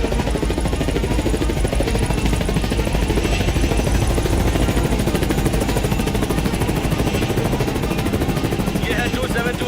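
An aircraft taking off in a dubbed action film, a loud steady rotor-like engine drone with rhythmic chopping pulses filling the whole stretch, voices talking faintly beneath it.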